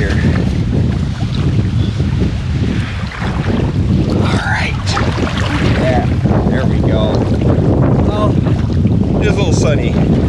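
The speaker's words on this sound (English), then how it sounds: "It's pretty windy." Strong wind buffets the microphone on a wilderness lake while boating, a loud continuous roar with gusts, water splashing against the hull, and voices speaking intermittently beneath it.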